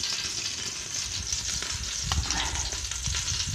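Fat sizzles and crackles steadily as duck legs roast, a loud, even frying hiss with scattered pops and a few stirring clunks near the end.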